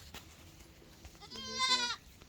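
A young Barbari breeding goat bleats once, a clear wavering bleat rising and fading over about half a second against quiet farm background.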